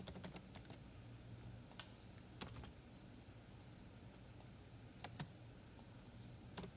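Typing on a computer keyboard while writing Python code: quiet, close keystrokes tap in irregular bursts with a few sharper clicks, over low room noise and with no talking.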